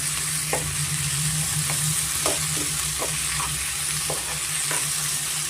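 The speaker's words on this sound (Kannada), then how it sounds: "ಅದು ಸ್ವಲ್ಪ ಎಣ್ಣೆಯಲ್ಲಿ ಚೆನ್ನಾಗಿ ಫ್ರೈ ಮಾಡಬೇಕು ಚೆನ್ನಾಗಿ ಮಿಕ್ಸ್ ಮಾಡ್ಕೊಳ್ಬೇಕಾಗತ್ತೆ ಟೊಮೆಟೋನ ಸಾಫ್ಟ್ ಆಗಬೇಕಾಗುತ್ತೆ" Tomatoes sizzle steadily in hot oil in a pan, a constant bright frying hiss with occasional soft scraping stirs and a low hum underneath, no voices.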